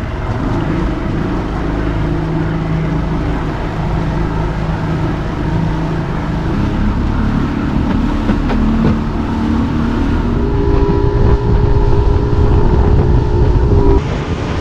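A motorboat rides back across open water after an island stop in bad weather, its engine a loud, steady drone with constant wind buffeting and hull rumble throughout.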